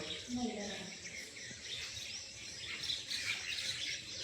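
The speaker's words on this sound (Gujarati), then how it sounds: "પાસે પક્ષીઓ ચેટલો આવ્યા, કબૂતર ને કોયલીઓ ને કાબરો." Birds including pigeons, koels and mynas chirp and call in the background, high and scattered, while someone talks nearby.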